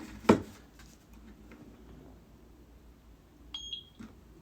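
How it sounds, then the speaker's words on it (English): An eufyCam 3 wireless security camera gives a short electronic beep during sync, faint and brief, heard once near the end after a single loud click, with a quiet room in between. "You will need to press and hold the sync button on the back of the camera for 2 seconds until you hear a beeping sound."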